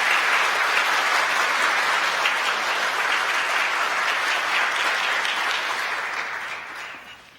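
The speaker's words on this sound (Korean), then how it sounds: "여러분들 인사드릴 때 환영의 박수 부탁드리겠습니다" A church congregation breaks into sustained applause welcoming a new minister at a Sunday service, a dense, steady wash of many hands clapping that holds evenly for several seconds before fading out at the end.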